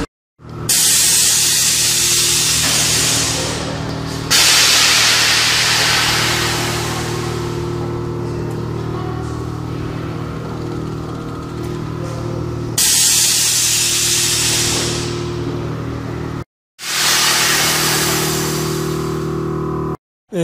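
Air suspension on a Volkswagen Jetta with independent front and rear air setup venting in loud, sustained hissing bursts as it adjusts, with three long blasts separated by brief gaps, close and dominant with no talk.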